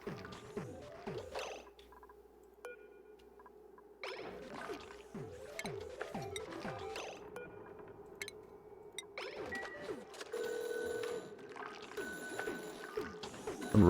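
A telephone ringing in a video game, repeated ringing bursts with falling chirping tones among other game sounds, moderately loud and without talk.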